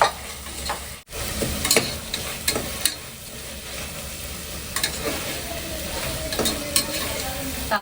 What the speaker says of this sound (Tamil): தக்காளி நல்லா வதங்கிடுச்சு இந்த அளவுக்கு வதங்கினா போதும்